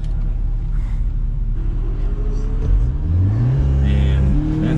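An Audi S3 accelerates hard on a race track, its engine note climbing steadily in pitch as the revs build. The sound is loud, close and continuous.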